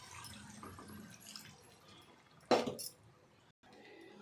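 Water poured into a pot of ground masala for chicken kheema pulusu curry, a brief splashing gush in the middle amid quieter kitchen background noise.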